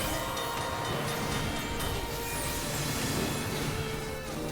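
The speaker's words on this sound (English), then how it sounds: "Everybody watch out for the train." A train thunders past in Final Fantasy XIV, a loud, continuous rumbling clatter with rail screeches that holds steady for several seconds before easing slightly at the end.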